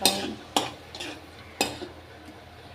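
Onions stirred in a hot kadhai, with sharp scraping strokes of a spoon against the pan repeating at irregular intervals over a faint sizzle.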